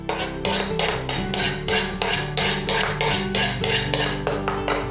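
A food processor whizzes lime zest into a blueberry and raspberry lime drizzle cake mixture, giving a loud, steady motor whir with rhythmic grinding pulses and no talking.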